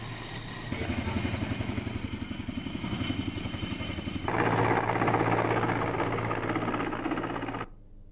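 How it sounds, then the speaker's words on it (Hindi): Rescue helicopter flying during flood relief operations in Himachal, its rotor thudding loud and steady throughout, swelling noticeably louder partway through before cutting off abruptly near the end. "आप देखिए हिमाचल में किस तरीके से रेस्क्यू किया गया हेलीकॉप्टर के जरिए"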